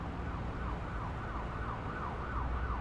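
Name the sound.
American siren tones in video game Microsoft Flight Simulator 2024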